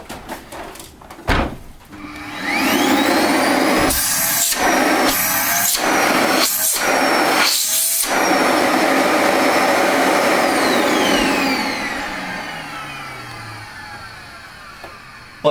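A Nilfisk Extreme vacuum cleaner runs with its filter removed: a couple of clicks, then the motor whirs up to a loud, steady roar with a rising whine, and a few seconds later it winds down.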